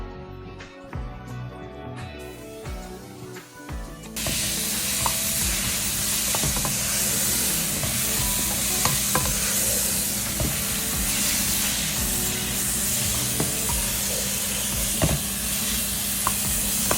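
Crushed ginger and garlic frying in oil in a pan, a loud, steady close sizzle that starts abruptly as they hit the hot oil and continues without a break, with faint stirring underneath.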